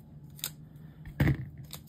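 Scissors snip a sheet of paper in half for a planner layout, producing three quiet, crisp cuts close by, the middle one the sharpest, against a soft background.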